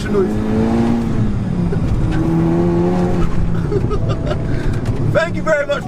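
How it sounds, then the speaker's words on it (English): VW Golf GTI-R engine pulling in second gear after a downshift, a steady close induction roar with rising and falling harmonic tones throughout, ending with a brief rise in revs. "It's just downshift down to second again. Listen to that induction noise."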